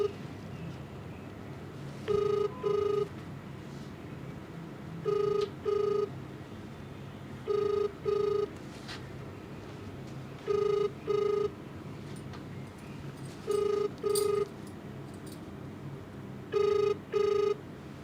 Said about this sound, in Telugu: మీరు కాల్ చేస్తున్న ఫోన్ ఎత్తలేడు ఆయన.